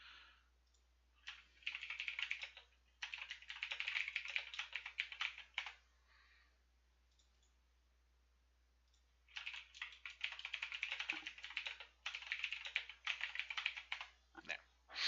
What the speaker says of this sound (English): And I apologize if you guys hear my noisy keyboard.